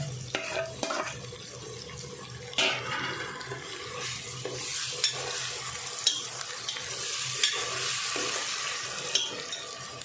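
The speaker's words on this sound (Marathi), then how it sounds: "थोडासा परतायचा कारण टॉमॅटो आपण कच्चा टाकलाय ना" A spoon stirs and scrapes a cowpea and potato curry with masala and raw tomato in a sizzling pan: continuous soft frying hiss with irregular metallic scrapes and taps, close and moderately loud, without talk.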